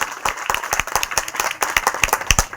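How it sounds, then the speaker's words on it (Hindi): Audience clapping at a temple guest-welcome gathering in a village, a close, lively patter of individual claps with sharp hand strikes standing out. "आप तालियां बजाकर सरपंच साहब से आग्रह कर सकते हैं"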